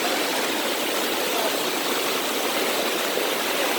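Small waterfall pouring into a stream, a steady, close, full rushing wash of water with no voices.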